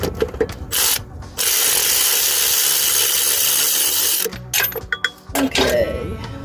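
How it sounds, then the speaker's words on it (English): An electric ratchet with an extension whirs on a starter bolt of a 2013 Honda Accord 2.4L LX, one sustained loud buzzing run of about three seconds between short bursts, with clanks and a voice around it. "Let me get this extension back on this electric ratchet."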